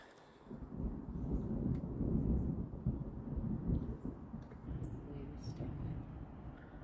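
Low rumbling thunder from an approaching storm over a homestead, a sustained rolling roar that swells and fades steadily for several seconds at moderate distance.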